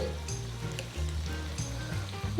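Boiled, peeled potatoes cut into large pieces drop into a hot oiled pan, giving a steady close sizzle with soft thuds and scrapes as they land, without any talking.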